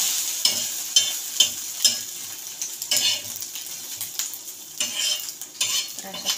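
An omelette sizzles steadily in a hot pan while a spatula scrapes and taps in irregular bursts as it is turned, close and moderately loud, with no talking.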